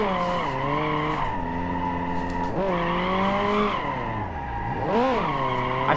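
A car drifting in the BeamNG.drive video game screeches its tires continuously, with the squeal's pitch rising and falling as the slide changes, over steady engine drone, loud and sustained.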